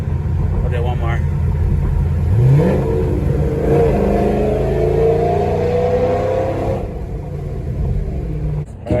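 A cammed Ford Mustang revs hard while spinning donuts, a loud, continuous engine roar with rising and falling pitch, lumpy idle character and tire noise throughout, and a voice briefly speaking over it.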